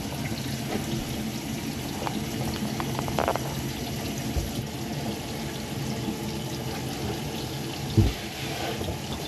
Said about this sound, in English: You can see the water flowing through it very quickly.